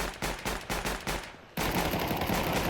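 AK rifle spraying in a competitive esports shooter match: a run of rapid, evenly spaced shots that breaks into a denser, continuous roar of gunfire, with no voices over it.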